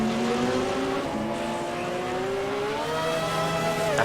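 Several Mazda race cars in a Gran Turismo-style racing video game, their engines droning steadily with shifting, rising tones as they run close together at speed, continuous and fairly loud with no talking.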